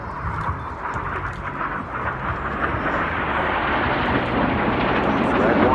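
Red Arrows jets sweep past in formation at an air display, a broad sustained roar that swells steadily louder over several seconds, with a crowd-like wash underneath.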